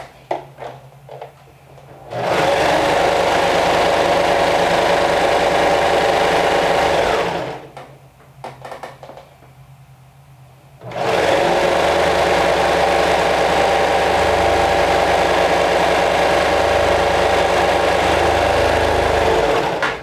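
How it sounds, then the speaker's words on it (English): A serger overlock sewing machine stitches a seam in cardigan skirt fabric, a loud steady motor whir in two long runs with a brief stop between, heard up close. "So I'm going to run a quick serger stitch right there."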